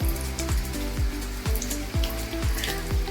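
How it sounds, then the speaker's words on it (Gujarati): Rain falls on a rooftop terrace as a dense, steady hiss of drops, heard together with a repeating rhythmic thumping pattern throughout. "પહેલો વરસાદ છે આ"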